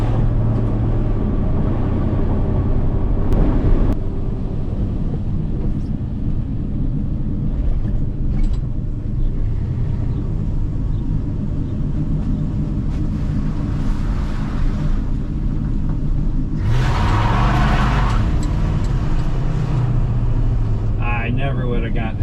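A 1979 Dodge Stepside pickup's engine drones steadily while driving on wet road, a continuous loud rumble with wind and road noise throughout and a brief swell of revving partway through.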